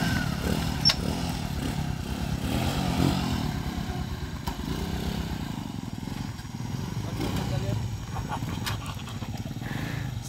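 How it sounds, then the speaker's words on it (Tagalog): A habal-habal motorcycle taxi in the Philippines idles and revs nearby, a steady low engine rumble running throughout, with people talking over it. "Ito yung tinatawag na habal-habal driver."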